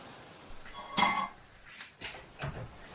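A frying pan is handled and set down on a kitchen stove, giving a few close metallic clanks and clinks spread over a few seconds in a quiet room.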